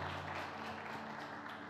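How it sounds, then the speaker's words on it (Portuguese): Applause from a congregation in a reverberant Baptist church hall, a steady soft patter of clapping with a low hum underneath. "Palmas aí, né?"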